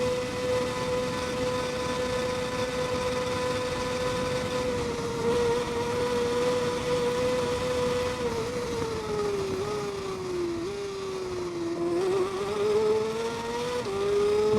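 Honda motorcycle engine racing in TT Isle of Man 2, a steady high whine held for several seconds that briefly dips as the rider dabs the brakes, then climbs again under hard throttle, loud and continuous with no voices.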